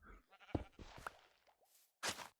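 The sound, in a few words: sheep bleating in the Minecraft video game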